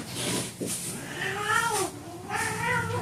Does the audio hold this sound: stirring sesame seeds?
no